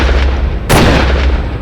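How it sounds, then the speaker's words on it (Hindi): Two gunshots ring out in a dramatic story scene: a faint first crack, then a loud, sharp blast that cuts through a steady low rumble. "2 गोलियां चलने की आवाज आई।"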